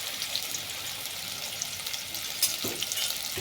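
Potato pieces frying in oil in a pan, a steady soft sizzle with faint crackles and a brief stirring clatter near the end, moderately quiet and without talk.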